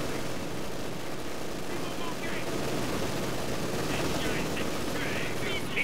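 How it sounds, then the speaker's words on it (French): An MG42 machine gun fires in Company of Heroes 2 amid a steady, dense wash of battle noise and rattling gunfire, continuous and fairly loud, with a faint voice in the background. "Mitrailleuse MG42, on tire."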